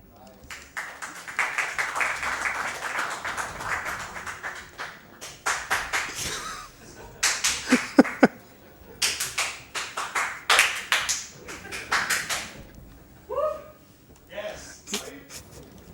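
Audience at a Prince of Persia: The Forgotten Sands speedrun event claps in scattered bursts, a few sharp rounds of applause mixed with taps, while people talk throughout.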